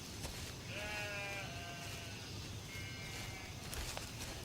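A sheep bleats several times over steady outdoor background noise, its wavering harmonic calls clear and moderately close, with a second shorter bleat following after a brief pause.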